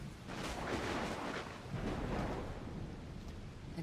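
Rain falls in the video game Assassin's Creed Odyssey, a steady, soft, broadband hiss with faint rumbling swells, heard alone and fairly quiet throughout.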